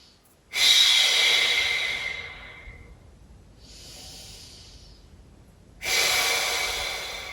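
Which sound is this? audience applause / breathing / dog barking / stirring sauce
breathing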